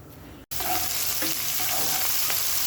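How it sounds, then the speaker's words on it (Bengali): Chopped onion and chili sizzle loudly in hot oil after a brief silent gap, a steady bright hiss with faint stirring scrapes. "প্রথমে তেলের উপরে পেঁয়াজ কুচি আর মরিচ কুচি দিয়ে দিলাম।"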